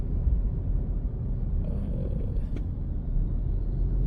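Car traffic rolls along a congested road in Vientiane, Laos, a continuous low rumble of engines and tyres with a faint passing whine, steady and close throughout.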